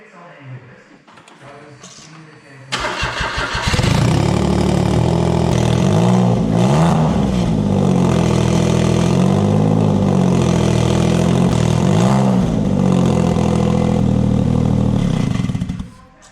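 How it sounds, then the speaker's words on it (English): A Smart car engine cranks and catches, then idles loudly with a throaty, slightly uneven exhaust burble and occasional swells of revving, close by and continuous. "I just started up again because I want to listen to this exhaust"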